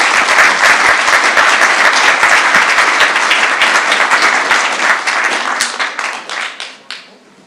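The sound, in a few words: audience applause for the panelists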